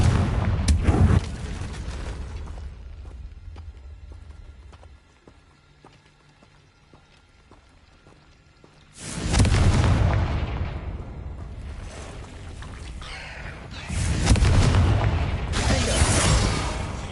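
Booming Confringo blasting-spell explosions from Hogwarts Legacy hit loud and close, a burst at the start and two heavy blasts later with rumbling tails, separated by a quieter stretch of low ambience.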